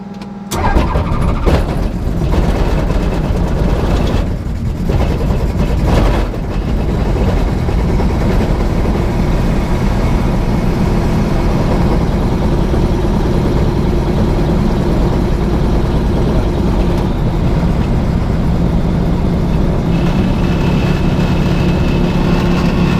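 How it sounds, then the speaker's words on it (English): A tail-dragger airplane engine at an airfield fly-in starts with a rough burst, then runs steadily at a loud, continuous drone close by, with no talk over it. "Now let's get the engine started and we can fool around with that all we want."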